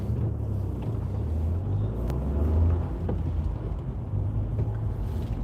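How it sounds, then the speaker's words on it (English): Car passing along a wet road in heavy rain near Wigan, heard as a steady low rumble of tyres and engine with a slight swell midway, under rain and wind noise throughout. "What's the chances of a car wanting to come this way?"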